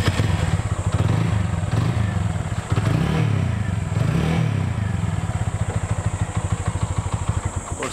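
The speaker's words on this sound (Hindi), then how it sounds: "साउंड तो अपनी अप्पू का है ही मस्त" TVS Apache 200 4V motorcycle engine idling steadily up close, a loud, continuous low throb with slight rhythmic pulsing and a couple of mild rev swells.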